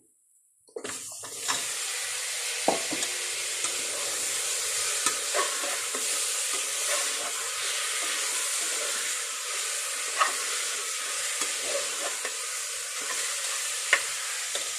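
Chicken pieces sizzling and being stirred with softened onions in a pan for Thalassery dum biryani, starting after a brief silence, then a continuous close fry with repeated scraping and clinking of the spoon.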